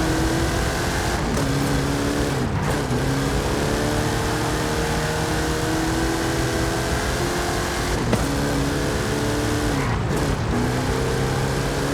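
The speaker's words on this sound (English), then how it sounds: "How about you and I test them in a drag race?" Hot Wheels cars drag racing in Forza Horizon 5, with a loud, close engine climbing in pitch, cut by sharp gear shifts every few seconds before pulling hard again.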